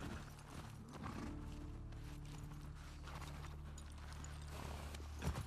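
Rhythmic clip-clop of horse hooves in The Last of Us Part II, over a low mechanical hum, with a creaking clatter near the end.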